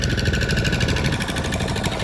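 A motor boat engine on the river at Kuruvapuram throbs loud and close with a rapid, steady knocking chug, unbroken and without voices.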